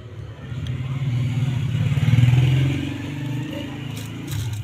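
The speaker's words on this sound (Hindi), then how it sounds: "जिप सेंटर में रखें, इस तरीके से सिलाई शुरू करनी है।" A sewing machine stitches a zip into a salwar pocket, a steady motor hum with a continuous low buzzing drone that swells slightly midway and runs close and unbroken throughout.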